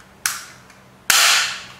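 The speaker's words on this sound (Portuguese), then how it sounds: "Não deve se fazer isso, disparar com ela em seco, mas aqui é só para demonstrar que ela funciona" Dry firing a Stinger P9T spring airsoft pistol, a Crosman 6mm copy of the Walther CP99: two sharp, loud, close snaps about a second apart, each with a short metallic ring-out and no voices.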